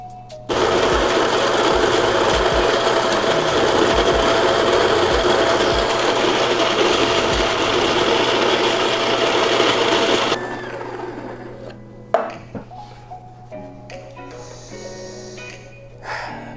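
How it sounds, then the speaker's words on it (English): Coffee grinder running steadily for about ten seconds as it grinds beans for a pour over, a loud continuous whir that then stops, leaving faint clicks and handling noise. "So the next step is grind your coffee."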